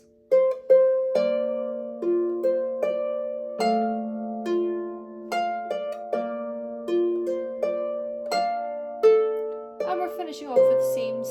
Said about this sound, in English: But they're going to happen in the same place. It will sound like this.